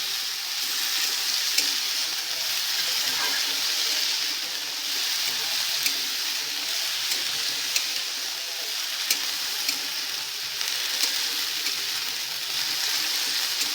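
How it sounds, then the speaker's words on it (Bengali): Rice frying in a pan, a steady close sizzle with regular light ticks of stirring against the pan, continuous throughout with no speech. "ভালো করে ভেজে নিতে হবে প্রায় এইটটি পারসেন্ট এটা যেন সেদ্ধ হয়ে যায় ভেজে ভেজে ভেজে দেবে"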